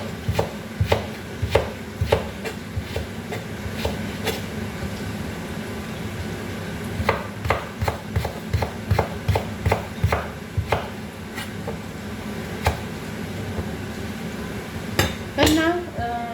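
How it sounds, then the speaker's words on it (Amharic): A knife chops an onion into thin strips on a board, a long series of sharp, close taps in uneven bursts with brief pauses between runs. "ቀጫጭን አድርጌ ረጃጅም አድርጌ ቀጫጭን አድርጌ መክተፍ አለብኝ"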